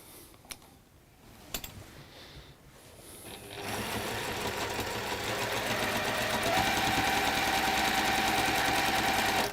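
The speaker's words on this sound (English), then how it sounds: "And you're going to sew on the line." A few soft clicks give way to a sewing machine stitching fabric along a marked line in a quilting workshop, running at a steady, fast, close whirr for the last six seconds with no talk.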